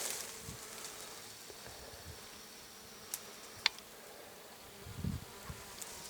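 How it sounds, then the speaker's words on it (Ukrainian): A steady low hum of bees buzzing outdoors among flowering goji (matrimony vine) shrubs, soft and continuous, with a few closer passes and faint rustles. "на зарослях дерези гудуть бджоли."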